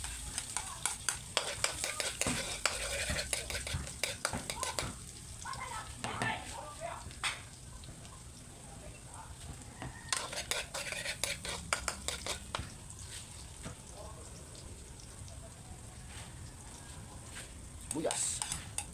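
Garlic stir-fried in a pan for ground pork sisig, with a soft sizzle under repeated scraping and clinking of a metal utensil against the pan, close by, with brief quiet talk.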